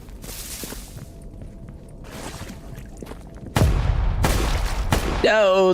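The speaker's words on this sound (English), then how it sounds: "No, those are more gunshots." Gunfire in the video game S.T.A.L.K.E.R. G.A.M.M.A. comes as a few sharp reports with a louder burst near the end. Quiet ambience and faint speech run underneath.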